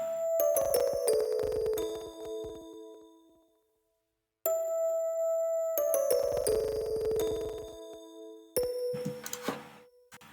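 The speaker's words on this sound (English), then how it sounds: "I then added this little bell from Synology." A bright synth bell preset plays a short descending melody with reverb, pausing briefly, then repeating, ending with a few more chimes.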